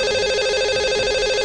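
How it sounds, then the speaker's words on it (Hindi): A telephone rings steadily over a phone line as a Hindi morning radio show dials a lucky caller; the bright, continuous ring tone fills the short moment on its own, with no talk. "लगाते हैं इन्हें कॉल और करते हैं इनसे बात"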